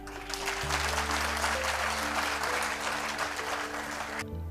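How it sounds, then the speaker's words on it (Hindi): Seated audience of a few hundred at a motivational talk applauding themselves, a broad wash of clapping with a low steady hum underneath, sustained evenly before cutting off abruptly near the end. "तो एक मर्तबा आप सब लोग अपने लिए ताली बजाइए।"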